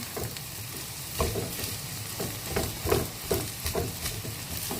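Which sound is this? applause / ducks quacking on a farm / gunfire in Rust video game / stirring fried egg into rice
stirring fried egg into rice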